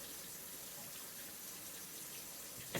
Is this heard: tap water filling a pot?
yes